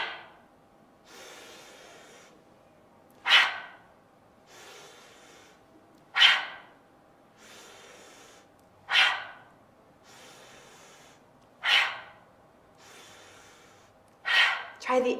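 Slow, deliberate breathing exercise mimicking an alligator's mouth opening and snapping shut: a regular cycle of long soft inhales and sharp, loud exhales repeated about five times, close and clear.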